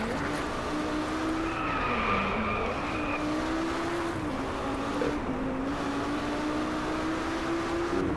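Game car engine in Driveclub holding a steady droning note through a drift, with a high tire squeal rising in the middle, continuous and close with no talk.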